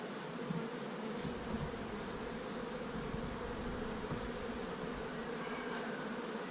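Honey bees buzzing in a steady, dense drone during an open hive inspection, a continuous insect hum that neither rises nor fades, with no one speaking.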